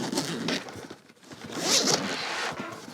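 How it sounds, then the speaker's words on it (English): A heavy-duty zipper on a Nomatic backpack is pulled open in two close, raspy strokes with a brief pause between them, nearby and alone. "Now these are heavy duty zips here."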